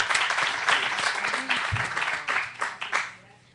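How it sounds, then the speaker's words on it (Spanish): Applause from an audience in an auditorium at an education innovation event, a steady patter of clapping that fades out toward the end, with voices talking over it. "Les vamos haciendo un aplauso acá en el auditorio."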